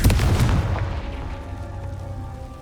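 The Confringo explosive spell going off in the video game Hogwarts Legacy: one loud, deep boom at the start that rolls into a long, fading rumble, with no voices over it.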